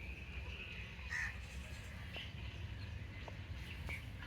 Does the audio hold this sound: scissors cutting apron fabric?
no